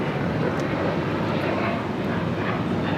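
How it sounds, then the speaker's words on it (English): A Boeing 737-800 jet takes off at LAX, its engines a steady, loud broadband roar that holds evenly throughout with no voices over it. "1418 taking off to Guadalajara on the 737-800"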